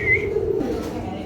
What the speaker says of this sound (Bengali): দেখেন ব্লু ওপাল হোয়াইট বার, এটা গোল্লা মাদি কবুতর।